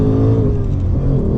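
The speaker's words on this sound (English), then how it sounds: "you've got to have that revving sound" A 2025 Ford Mustang Dark Horse with a manual gearbox, its engine revving as it changes down gears on a hill, a brief rising and falling engine note, close and fairly loud.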